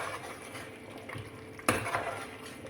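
Mutton green masala with a pinch of kasuri methi being stirred and mixed as it fries in oil in a pan: soft scraping and gentle sizzle, with one sharp metallic clink of the spoon against the pan partway through.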